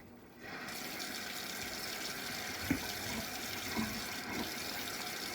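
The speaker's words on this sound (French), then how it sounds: "on va commencer à se laver les mains. On met du savon." Tap water runs steadily into a sink as hands are washed with soap, a continuous rushing stream with a few soft knocks and splashes, heard before baking a banana and chocolate loaf.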